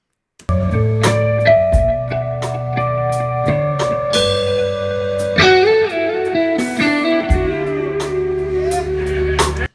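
A clean electric guitar lick by Andy Timmons played through an amp live, sustained notes and quick melodic runs ringing out clearly with no voices.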